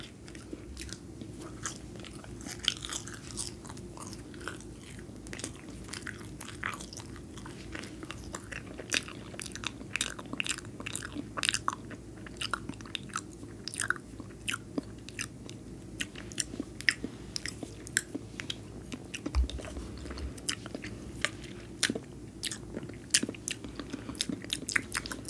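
Soft, close chewing of marshmallows in a quiet ASMR setting, with sticky, squishy mouth sounds and small wet clicks repeating steadily throughout, no talking.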